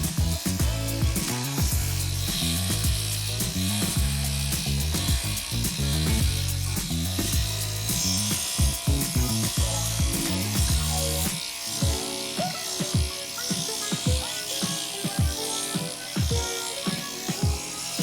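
Electric hair clippers fitted with an A guard comb skim a dog's wispy fur away from the ears, giving a steady close buzz with repeated short strokes and pulses throughout.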